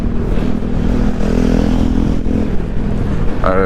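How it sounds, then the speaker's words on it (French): A big motorcycle passes a car on a Provence road, its engine a loud, steady rumble close by with a brief higher whine near the end. "C'était une madame qui a une grosse moto."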